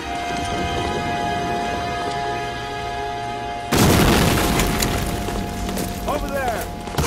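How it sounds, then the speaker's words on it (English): Panzerschreck rocket launcher in Medal of Honor: Allied Assault sends out a single loud, sudden blast partway through, cutting over steady rumbling battle ambience. The booming wash then lingers with voices nearby. "Use your Panzer Shrek!"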